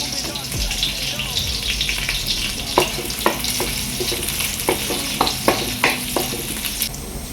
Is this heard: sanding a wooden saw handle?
no